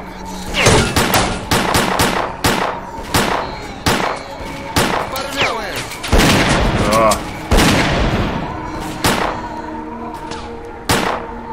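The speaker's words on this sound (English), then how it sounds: "We're all shooting the bush." Gunfire in the video game S.T.A.L.K.E.R. Clear Sky: loud, close, irregular shots and short bursts fired in rapid succession, some with echoing tails, with no voices over them.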